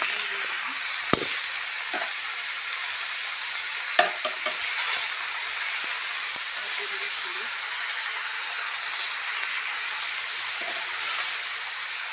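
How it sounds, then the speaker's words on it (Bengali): Cabbage fries in a pan with a steady soft sizzle and hiss, while a few sharp clinks and scrapes of a spatula stirring break through near the start and middle. "আমি আরেকটা ভাজা করবো, সেটা হচ্ছে বাঁধাকপি ভাজা।"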